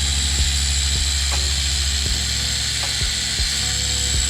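Machine polisher working degraded trim parts on a BMW Z4M Coupe, a steady high whine with a constant drone and a few soft clicks, close and continuous.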